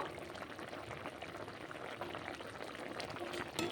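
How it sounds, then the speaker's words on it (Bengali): Malabar spinach and thin-sliced potatoes simmering in a pot of water, faint soft bubbling and gentle liquid burble close by, steady with small splashes, no voices. "পুঁই শাকটা সেদ্ধ হয়ে গেছে"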